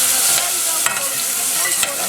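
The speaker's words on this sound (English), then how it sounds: "So now they're sizzling." Onions fry in a pan for Mexican rice with fideo, a steady bright sizzle broken by a couple of stirring scrapes, close and continuous with no talking.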